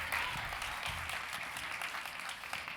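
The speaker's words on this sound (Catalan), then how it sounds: "Un fort aplaudiment, que es van preparant." Steady, full applause from a talent show audience fills the whole short stretch, dense and even with no break.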